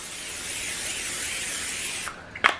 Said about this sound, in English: I'm gonna spray my pan a little bit there.